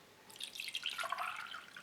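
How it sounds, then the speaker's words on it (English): Orange isotonic drink poured into a glass, a short bright liquid splash and trickle lasting about a second and a half, close and alone. "Let's pour a glass of this."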